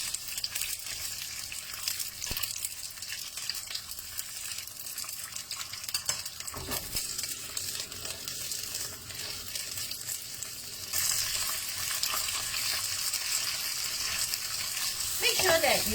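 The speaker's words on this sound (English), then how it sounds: "We're going to use high fire just to pan fry the French bean." French beans pan-fry over high heat, a steady close crackling sizzle with occasional scrapes and clinks of a spatula, growing louder and busier toward the end.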